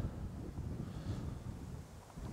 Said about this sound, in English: It's gone all windy, Rich.